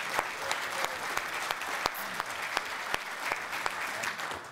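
Audience at a German party convention applauding to welcome speaker Bernd Lucke, a steady wash of many hands clapping with a few sharper individual claps popping out, sustained evenly throughout.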